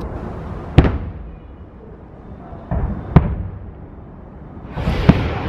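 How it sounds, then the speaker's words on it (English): Star Wars fireworks burst over Hollywood Studios at Walt Disney World, heard from a distance as three separate booming pops spaced a couple of seconds apart, with a low rumble trailing each one. "Those are the Star Wars fireworks going off over there."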